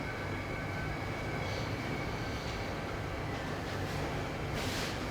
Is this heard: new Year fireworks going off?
no